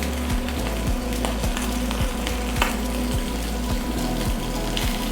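A Vietnamese bánh xèo crepe frying and crisping in a hot pan gives a continuous close sizzle and crackle, with a regular series of soft low thumps underneath and no talking.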